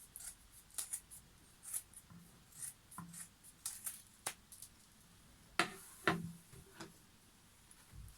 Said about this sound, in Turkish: Fazlalıkları kesiyorum.